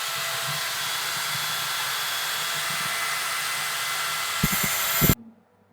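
A power tool cuts a marked section of pipe while a bathroom bend mixer is being fitted, a loud steady whine running without a break, then a few brief knocks before it stops abruptly.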